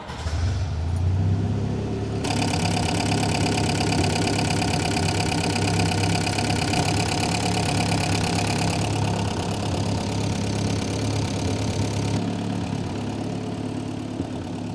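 A 1964 Jeep CJ5 barn find starts and settles into a steady, close idle, its engine note running continuously and loud throughout with no talking.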